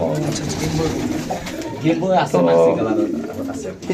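Racer pigeons coo in a loft, low throaty burbling calls repeating close by beneath someone speaking steadily throughout.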